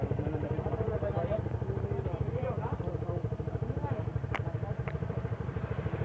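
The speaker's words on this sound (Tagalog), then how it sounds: "Yan yung mga motor, oh." Rusi motorcycle engines run close by with a steady, rapid idling throb, mid-pitched and continuous, while people talk over them.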